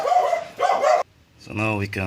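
A dog barks close by in a home garage during a first-generation Mitsubishi Pajero clutch master and slave cylinder repair, a short harmonic bark burst following a man's speech.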